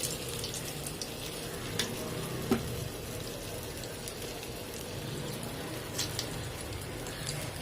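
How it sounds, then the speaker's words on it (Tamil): Urad dal vadas deep-frying in hot oil in a Tirunelveli-style kitchen, giving a steady close bubbling hiss throughout with a few sharper crackles and pops, and no talking. "அப்படியே எண்ணெயில் மெதுவாக போட்டு எடுத்துருங்க."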